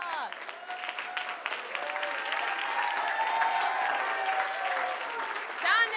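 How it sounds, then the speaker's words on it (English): A school event audience claps steadily through a standing ovation for teachers, a continuous wash of clapping with scattered voices and cheers mixed in, a brief louder swell near the end. "Stand and clap at the same time,"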